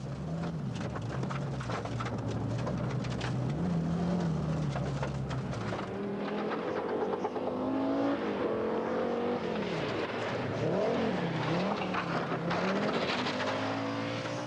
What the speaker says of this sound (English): The puncture is right front. You can hear it and see the effect it's having.